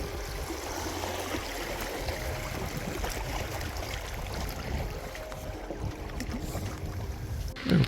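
A canoe running a V-shaped rapid on the Katherine River: a continuous rushing wash of turbulent water close by, steady and fairly loud, with a bump or splash at the very end and no voices.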